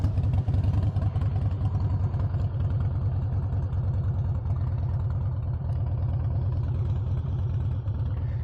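A straight-piped truck engine idles loud and close, with a deep, steady rumbling exhaust pulse that holds without pause and no talk.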